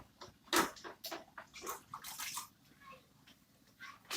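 Water poured into a cooking pot while preparing a mashed banana dish with smoked fish, splashing in short uneven bursts close by with some pauses between pours.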